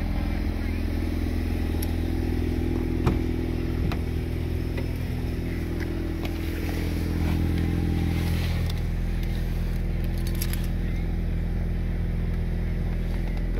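A 2016 Ford Mustang EcoBoost sits idling with a deep, even engine rumble that holds steady throughout, close and fairly loud, with light mechanical clatter on top.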